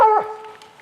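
A single short bark or yip from a bear hunting dog, close and clear, trailing off quickly into quiet.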